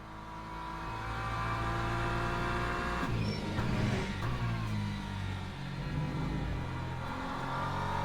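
A Porsche race car engine in the racing game Le Mans Ultimate drones steadily, with harmonic pitch lines that shift as it revs, climbing and falling through gear changes, heard alone without talk.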